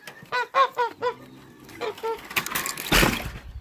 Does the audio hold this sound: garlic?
no